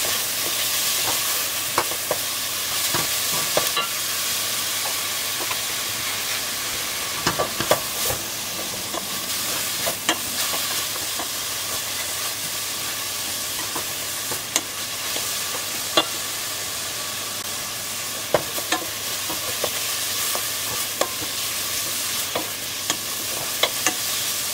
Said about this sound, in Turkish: Karıştırarak kavurmaya devam edelim.